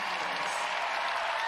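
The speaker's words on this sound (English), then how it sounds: "Big round of applause" Basketball arena crowd at the UConn vs Georgetown Big East Championship applauding, a steady dense patter of many hands clapping, continuous and fairly loud for the whole short stretch.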